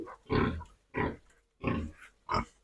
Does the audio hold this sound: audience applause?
no